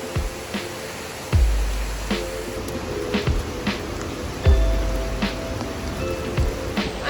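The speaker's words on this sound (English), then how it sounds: "Unfortunately, it is raining too much for us to be able to swim" Heavy rain pours steadily through a Costa Rican rainforest, a dense continuous hiss with occasional louder drops and low thumps, with no talking.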